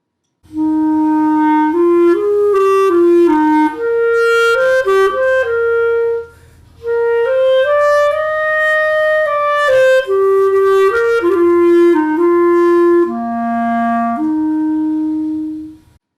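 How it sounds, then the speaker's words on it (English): A clarinet plays a solo melody alone, smooth sustained notes moving up and down with a brief pause in the middle, clear and close. "The clarinet sounds something like this."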